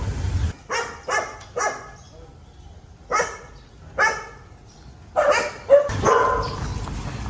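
Dogs at a stray dog shelter on a university campus bark in short bursts, several separate woofs from a few animals at moderate distance, with yips and a louder cluster of barks toward the end.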